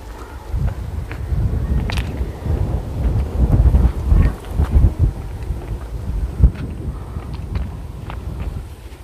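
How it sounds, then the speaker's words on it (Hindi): Wind blowing steadily across an open roadside area on an island near Naigaon, Mumbai, a loud continuous rumbling buffet against the microphone with gusty swells. "यहाँ पर अच्छी हवा चलती रहती है हर वक्त, क्योंकि ओपन एरिया है"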